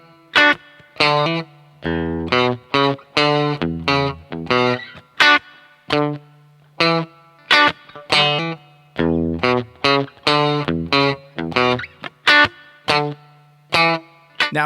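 Electric guitar plays a funk riff slowly without muted scratches, with effects-laden tone. Loud, choppy chord stabs and short single-note figures repeat in a steady, syncopated pattern with clear gaps, alone and close.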